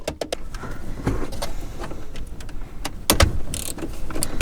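A ratchet or wrench clicks while loosening a 10mm bolt holding the head unit in a 2016 Toyota Camry dashboard, with irregular close mechanical clicks and some rustling.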